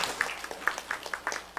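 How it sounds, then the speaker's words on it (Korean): Scattered, fairly quiet applause from a Korean church congregation during an Advent Sunday service, with distinct individual claps popping out of a soft, steady patter. "영광의 박수 올려드리겠습니다."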